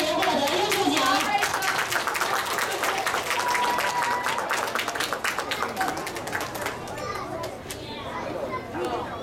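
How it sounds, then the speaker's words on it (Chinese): Students receiving awards at a school ceremony get a burst of clapping from a crowd of children, steady and fairly close, mixed with children's chatter and voices throughout. "我们用掌声鼓励这些同学获得优秀奖。"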